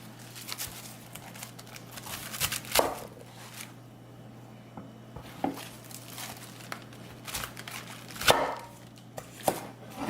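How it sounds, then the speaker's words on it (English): Knife chopping napa cabbage into cross sections on a cutting board for vegan kimchi, with irregular crisp thuds and crunchy crinkling of the leaves, close and moderately loud over a faint steady hum. "we're going to start chopping the cabbage in cross sections, about 1 inch"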